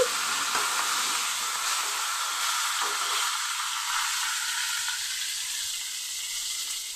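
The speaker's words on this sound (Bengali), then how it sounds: "অল্প করে তেল দিয়ে আমি পটলটা ভেজে নিচ্ছি" Pointed gourd frying in a small amount of oil gives a steady, dense, close sizzle with a bright hiss that holds at an even level throughout, with no voices.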